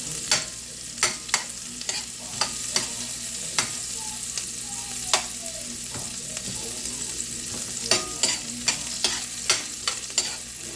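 Onion sautéing in a pan for a coconut-milk vegetable dish, heard as a steady frying sizzle broken by repeated sharp scrapes and clacks of a utensil stirring at an uneven rhythm, close and fairly loud, with no talking.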